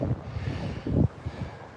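Cold wind on a Tokyo street near Akasaka buffets the microphone in uneven gusts, with one stronger blast near the middle, and no talk.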